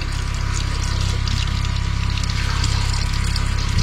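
A submersible water pump in a Hymer MLT 580 motorhome runs with a steady low hum while water pours and splashes continuously at close range, the flow sounding weak.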